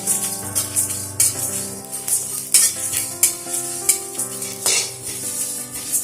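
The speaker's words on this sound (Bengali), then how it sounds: "এবারে সমস্ত মশলাটাকে একদম লো ফ্লেমে ভালোভাবে ভেজে নেব" Whole cumin, coriander seeds, dried red chillies, cardamom, cloves and cinnamon fry on a low flame with a soft, hissing sizzle, broken by repeated clinks and scrapes of a spoon stirring against the pan, over background music.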